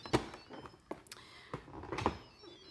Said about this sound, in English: and I'm going to put the lid on.